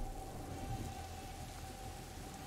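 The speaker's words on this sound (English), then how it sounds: "of course there's a thunderstorm" Steady, dense rain pours during a thunderstorm in the video game A Plague Tale: Innocence, a continuous hissing wash with a faint low rumble underneath and no speech.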